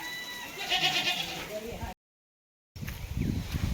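Goats bleat close by with a few wavering calls early on, then a short silence follows before rustling and voices resume.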